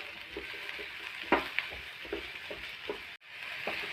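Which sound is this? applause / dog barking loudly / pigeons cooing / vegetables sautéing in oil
vegetables sautéing in oil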